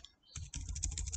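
Brief quick run of keystrokes on a computer keyboard while entering a field name in QGIS, close and fairly soft after a short pause.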